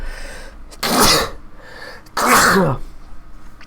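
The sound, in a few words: sneeze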